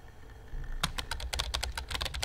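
Rapid keyboard typing from the Emily is Away Too video game starts after a brief quiet lead-in, a close, fast run of crisp key clicks that continues steadily to the end.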